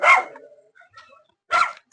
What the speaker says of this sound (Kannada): ನಾಯಿ ಬೊಗಳತ್ತ